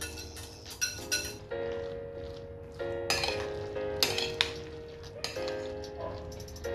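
A spoon mixing sauce into rice in a dish for baked rice (arroz de forno), giving repeated light clinks and scrapes against the dish over a steady low background hum.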